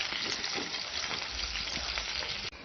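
Tinned mackerel and cut-up seasonings frying in a pot, a steady close sizzle with low stirring rumbles throughout, cutting off briefly near the end.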